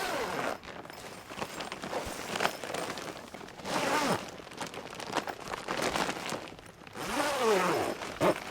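The zipper door of an Eagle Peak pop-up portable greenhouse is pulled open in long, continuous rasping strokes with brief gaps, close and fairly loud, with plastic cover crinkling alongside.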